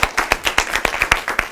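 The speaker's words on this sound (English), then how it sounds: "Please give a round of applause for Mr." Brief, fairly close clapping from a small audience welcoming speaker Fernando Guerra, about a dozen distinct claps in quick, uneven rhythm over a second and a half.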